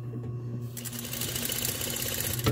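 An industrial straight stitch sewing machine runs through fabric with a fast, even mechanical chatter close by. It starts from quiet and keeps a steady rhythm, ending with a brief clunk.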